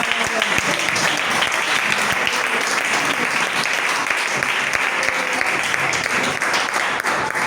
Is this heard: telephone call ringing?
no